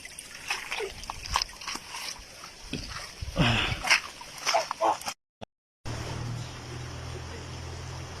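A mountain stream at Hua Phai, a spot for fishing and bathing, splashes and sloshes in irregular bursts close by, then cuts out briefly before a steady wash of flowing water continues.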